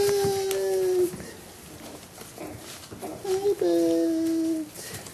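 Jack Russell terrier puppies yip and howl in drawn-out whining cries, two long howls with shorter yelps between, close by while people talk excitedly over the playful scuffle.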